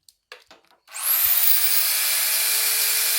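A power drill whirs up after a few light clicks and keeps running steadily at a high-pitched, constant whine, close to the microphone.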